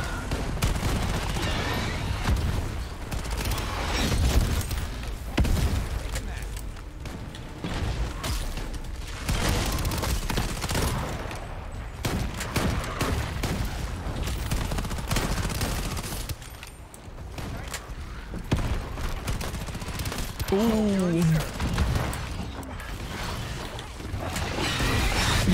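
Bursts of gunfire from the co-op shooter game Shatterline, with rapid automatic fire, mechanical clicks and a few booms running throughout, while players talk over the action.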